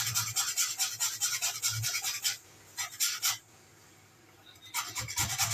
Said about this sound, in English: So all I'm going to do is I'm going to grate that